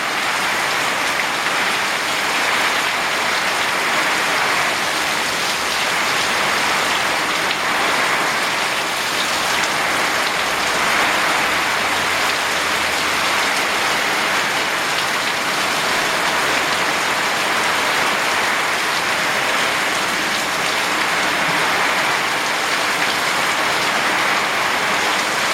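Heavy storm rain pours down in a dense, loud, unbroken hiss, close by and drenching everything near the recording spot.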